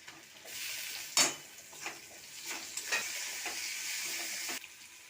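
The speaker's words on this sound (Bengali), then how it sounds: "এইবার দিয়ে দেবো আদা রসুন বাটাটা" Chopped onion frying with ginger-garlic paste gives a moderate sizzle in a pan, with a few sharp spatula scrapes and taps before the hiss cuts off near the end.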